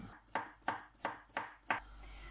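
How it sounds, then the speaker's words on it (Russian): A knife cuts carrots into half-rings on a board: five crisp, evenly spaced chops, close and quiet, with no talking. "200 грамм морковки нарежу вот такими полукольцами."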